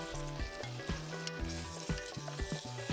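Tomato paste cooks in a pot as the base for a beef bourguignon, giving a steady sizzle beneath prominent background music with no voices.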